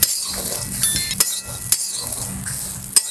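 Guar beans dry-roasting in a pan with no oil, a close, quiet rustle and scrape of stirring punctuated by several sharp clinks of the utensil against the pan, no voices.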